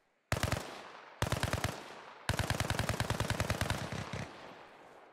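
Rapid automatic gunfire in the Tiny War video game: three loud bursts, a short one, a slightly longer one, then a long sustained string of evenly spaced shots, each round sharp and close.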